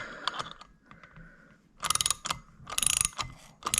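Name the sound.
valve spring compressor compressing springs on K20 cylinder head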